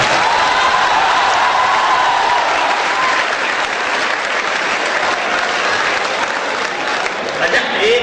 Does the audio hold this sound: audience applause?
yes